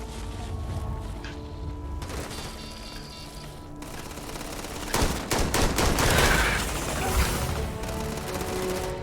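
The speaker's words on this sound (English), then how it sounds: "It's time to get out your gun and start shooting." Rapid bursts of gunfire from a player's gun in a video game, dense volleys of shots building to a louder, sustained barrage in the second half, with mechanical clatter and no talking.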